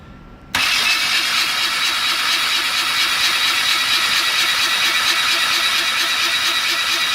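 A car engine kicks in abruptly and runs with a steady, loud, even hum and faint rhythmic ticking, continuing without pause after the start.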